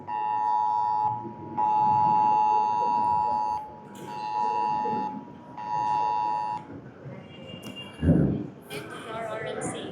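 A cellphone rings during a church sermon, sounding in repeated bursts of a bright melodic tone with short gaps between them, while a preacher speaks under and between the rings.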